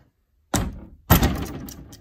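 An original wooden sliding door in an old Japanese kominka house gives two loud, close scraping thuds about half a second apart as it is shifted in its track.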